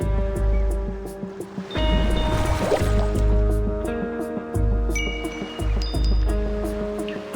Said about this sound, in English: The waves create a chiming sound, like bells.